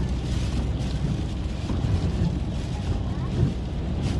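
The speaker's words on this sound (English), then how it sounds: "It's like really windy now and like the whole car is shaking and Andrea, you can see Andrea's face." Heavy wind buffets a car, shaking it, roaring in a constant low rumble, close and loud, with gusts thumping against the surroundings.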